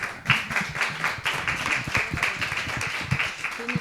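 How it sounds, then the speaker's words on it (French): An audience at a seminar on restorative justice claps together in a dense, sustained round of applause that holds at an even level for the whole stretch. "merci beaucoup pour les applaudissements"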